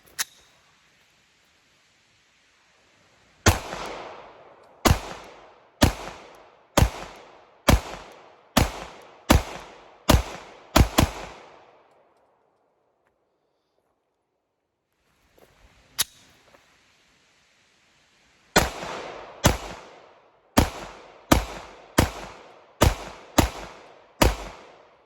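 Two quick strings of sharp gunshots from a Glock pistol fitted with a performance trigger, fired as magazines are emptied at a range, each crack loud and close with short echoing tails, separated by a quiet pause.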